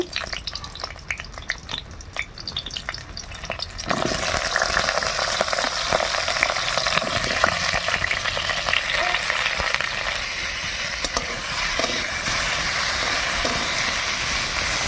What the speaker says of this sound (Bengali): কড়াইয়ে আবার তেল দিয়ে দিলাম এবার আমি পটলগুলো লাল লাল করে ভেজে নেব